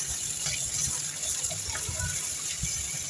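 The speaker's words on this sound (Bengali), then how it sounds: "এদিকে শাকটাও আমি ধুয়ে নিলাম সুন্দর করে" Tap water runs in a steady, close rush while leafy greens are rinsed in a home kitchen. The flow holds at an even, moderately loud level throughout with no pauses.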